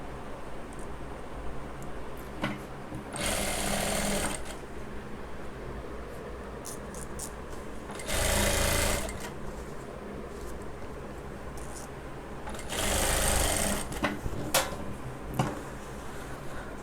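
An Usha industrial sewing machine with an auto trimmer runs in three short bursts of stitching, with quiet ticks and clicks between them and no talk.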